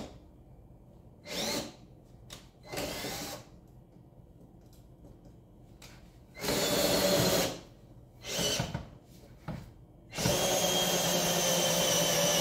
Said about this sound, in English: I'm using drill to lift that up.